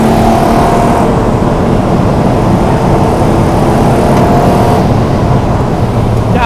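A V12 Jaguar XJS on a flying lap of a racing circuit, its engine a loud, continuous roar with steady drone and slight pitch shifts, heard close from inside the car.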